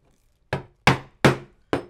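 Four sharp, loud hammer blows strike leather laid over an anvil, spaced unevenly about a third to half a second apart, each a crisp thwack with a short ringing decay, nothing else around them.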